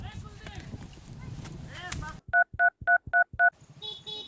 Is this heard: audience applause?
no